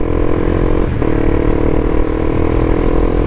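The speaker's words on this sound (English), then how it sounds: "So I'm gonna shift here without the clutch." A Honda CBR 300R motorcycle runs steadily and loud up close, with a brief dip around one second as it upshifts without the clutch, then carries on at an even engine drone.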